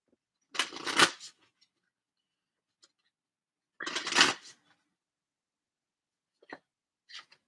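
Voice of the Souls oracle cards being handled and shuffled, two separate bursts of riffling card noise close by, each about a second long, followed by a few faint ticks and taps in an otherwise quiet room.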